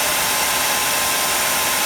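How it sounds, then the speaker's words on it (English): A handheld hairdryer blows hot air onto the crankcase of a Kyosho MP9 TKI4 V2 RC car engine on a cold day, a steady, loud, close whooshing hiss that runs unbroken throughout with no talk. "You can buy engine heaters with a good old hairdryer will do the job, and you just want to blow the heat going onto the crankcase of the engine."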